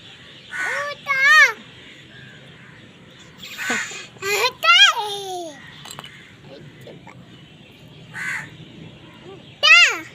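A crow caws a few times close by, in short harsh calls spread across the clip. Between the calls a baby babbles and chatters, and an adult voice joins in.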